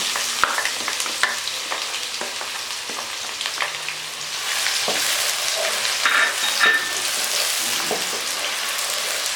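Onions frying in a pan with roasted cloves and cinnamon sticks, a steady close sizzle with occasional stirring scrapes, continuous and fairly loud throughout with no talking.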